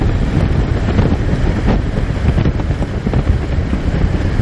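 Strong wind buffets the microphone at a hilltop viewpoint overlooking the Bosphorus Bridge, a loud, continuous broadband rumble with gusty swells and no voices.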